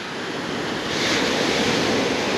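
Sea waves wash onto the shore at Lazarevskoye beach near Sochi in an even, hissing roar mixed with wind buffeting the microphone, swelling slightly louder partway through, with no talk.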